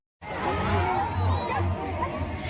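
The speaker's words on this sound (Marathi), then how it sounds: "गर्दी किती सारी झाली." A dense crowd gathered for a palanquin procession murmurs and chatters, with children calling out among many overlapping voices, moderately loud and close.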